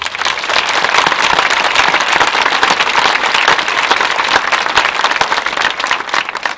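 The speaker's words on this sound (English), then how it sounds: "a big round of applause, please, for them" Sustained audience applause fills a graduation ceremony, dense steady clapping from a large crowd continuing without pause for several seconds, loud and close.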